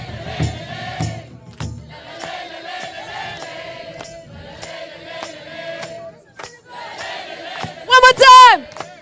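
A large crowd in Budapest shouts in unison, in repeated loud bursts with short pauses between them, and ends on a rising, piercing collective cry.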